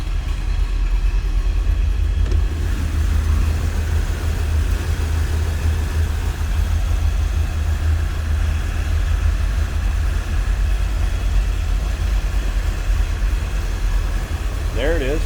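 A numbers-matching 350 L82 V8 in a 1978 Chevrolet Corvette C3 idles with a steady low rumble that stays even and continuous throughout, close by and alone.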